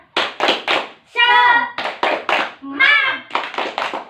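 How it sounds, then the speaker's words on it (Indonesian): Third-grade class performing the rhythmic tepuk semangat spirit clap, quick bursts of three claps alternating with a teacher and children chanting, loud and close in a classroom. "Tepuk semangat."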